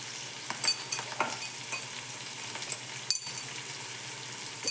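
Rice with spices sizzles and fries in a pan on a gas stove while a utensil stirs it, scraping and clinking in irregular bursts over a steady, close crackle.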